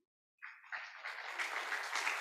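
An audience applauds an organizing team at an alumni association inaugural ceremony, the clapping starting abruptly and swelling into a steady, dense wash of many hands.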